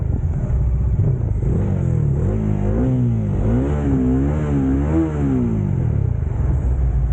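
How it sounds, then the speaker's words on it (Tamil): A Kawasaki Z900 motorcycle's inline-four engine revs up and down in a few smooth, rising and falling sweeps over a steady idle. It sounds loud and nearby, with no talking. "Z900 இருக்கிறது வந்து ஒரு inline 4 engine, world's most powerful bike engine"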